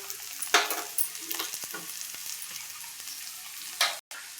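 A tempering of oil with coriander leaves, turmeric and salt is stirred in a pan, giving close, crackly sizzling with scraping spoon strokes that come in bursts and then briefly cut off.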